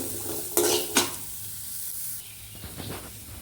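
Onions are sautéed in a dry pan, with a couple of sharp scraping stirs close up and then a softer, steady crackle and hiss as they cook.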